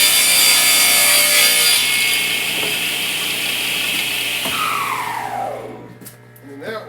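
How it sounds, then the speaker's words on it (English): A saw rips lengthwise through a piece of pine as a loud, continuous rasping cut, close by. Near the end the blade's pitch falls as it spins down and the cut trails off. "I can rip this piece of pine off now, radius this edge"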